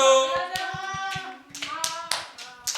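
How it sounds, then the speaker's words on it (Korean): A voice sings a sustained note, then a handful of people clap in a loose, uneven rhythm, the claps growing sharper and more scattered, at a children's Sunday church worship service. "박수!"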